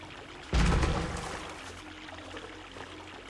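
Waterfall water in Prince of Persia: The Sands of Time starts suddenly as a loud, broad rushing pour, then settles into a steady splashing stream with no voices.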